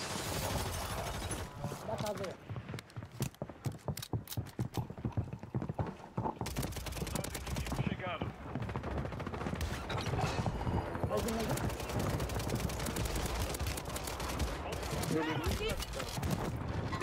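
Rapid bursts of automatic gunfire crackle in Warzone 3, dense volleys in the first seconds and then steady loud game action, while a player talks over it.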